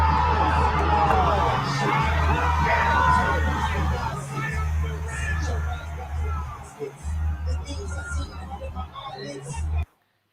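A concert crowd roars and cheers as the performer comes out, a loud, dense wash of shouting and whooping that surges and dips before cutting off abruptly.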